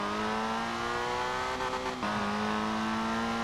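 A Morris Minor in Forza Horizon 4 driving through city streets in Edinburgh, its engine droning at a loud, steady pitch with a brief dip and shift partway through, like a gear change.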